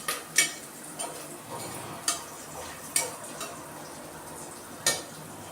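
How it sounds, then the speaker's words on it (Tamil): Onions sautéing in a pan for chicken biryani, a steady soft sizzle broken by a few sharp spatula scrapes and clicks against the pan, close and moderately quiet, with no one talking. "ஸோ நல்லா வதங்கணும். அந்த வெங்காயன்றது நல்லா ஒரு பொன்னிறமாக மாறும்."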